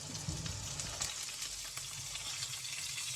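Blanched vegetables hit a hot frying pan and sizzle steadily, a dense crackling hiss that holds loud and even throughout with no voices.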